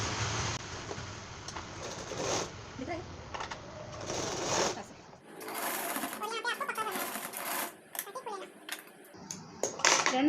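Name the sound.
sewing machine stitching blouse piping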